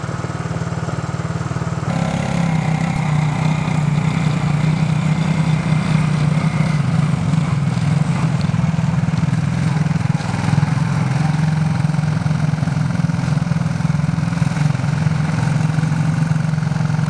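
Suzuki King Quad ATVs rumble along steadily in Marlboro Forest, a continuous close engine drone with low throbbing tone that holds fairly even throughout, rising slightly after a brief shift near the start, with no talking.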